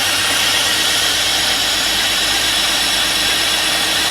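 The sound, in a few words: Holden Commodore engine running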